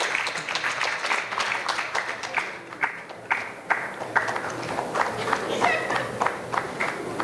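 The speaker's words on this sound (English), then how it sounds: "Another big clap. Another big clap." Applause for an award winner at a women in finance and investment summit in Ghana, a crowd clapping in rapid, uneven bursts that swell and dip, with voices mixed in.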